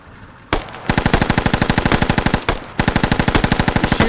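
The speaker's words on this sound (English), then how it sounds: "He's shooting too far." Rapid automatic gunfire in the video game Operation: Black Ice, two loud sustained bursts of evenly spaced shots separated by a brief pause, close and dominant with no talk.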